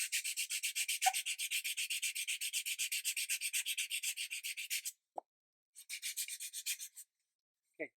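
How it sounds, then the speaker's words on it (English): Blue foam being sanded by hand, a steady rhythmic run of rasping strokes close up, then a short pause and a few more strokes with small taps between, no talking. "let's sand that in quick."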